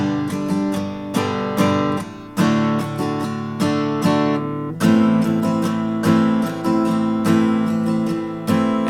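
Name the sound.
guitar playing a song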